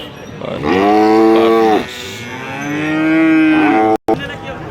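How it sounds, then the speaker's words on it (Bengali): A five-month-old Friesian bull calf at a cattle market lets out two loud, close, drawn-out moos, the second longer and rising, with no talk over them. "এখানে আরেকটি ভালো ফ্রিজিয়ান ষাঁড় বাছুর দেখা যাচ্ছে।"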